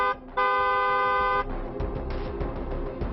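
A vehicle horn blares in one long steady honk, followed by a shorter rougher horn tone and traffic rumble, loud and close with no talking.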